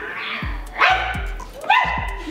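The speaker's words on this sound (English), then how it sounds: "Is that a dog in here?" A dog barks indoors in a few sharp, close yips and barks spaced unevenly, with a voice faintly mixed in between.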